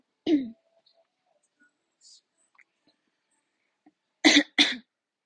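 Two sharp coughs in quick succession, loud and close, near the end of a quiet stretch, with a brief throat sound at the start.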